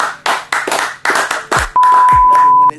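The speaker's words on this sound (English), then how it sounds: "Man, clap it up, clap it up." Hand clapping in a studio session, a handful of sharp, separate claps in a loose rhythm, close and loud, then a steady electronic tone takes over near the end.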